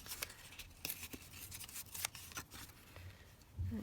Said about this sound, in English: I'll just tear that there